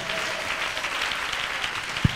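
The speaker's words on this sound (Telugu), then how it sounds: "గట్టిగా చప్పట్లు కొడదాం ఒకసారి." A church congregation at a sermon applauds loudly, a steady wash of clapping lasting a couple of seconds, with a brief thump near the end.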